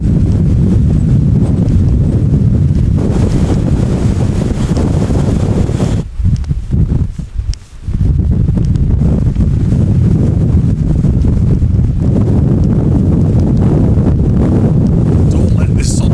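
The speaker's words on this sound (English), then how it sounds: "Especially with this wind, it might kind of accelerate the whole process and just blow me down there." Strong, steady wind roars across an exposed Lake District mountain summit on a sunny but cold day, buffeting the microphone almost continuously with a brief easing midway.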